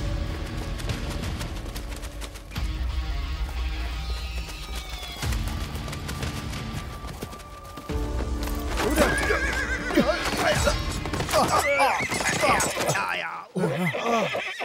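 Horses gallop and neigh during a chase in a martial-arts ninja action film, with a driving rhythm of hoofbeats, loud whinnies later on, and dramatic music and shouting mixed in.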